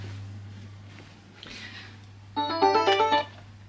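A phone ringtone plays a short bright electronic melody of rapid repeated notes, loud and close, after a stretch of quiet room hum and faint rustling.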